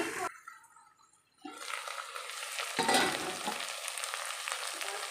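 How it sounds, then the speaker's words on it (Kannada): Chopped vegetables and soya chunks frying in a pan for a vegetable pulao, a steady close sizzle that drops away briefly and then returns loud, with stirring scrapes and a louder burst in the middle. "ನೋಡಿ ಚೆನ್ನಾಗಿ ಫ್ರೈ ಆಗ್ತಾಯಿದೆ ವೆಜಿಟೇಬಲ್ ಎಲ್ಲ"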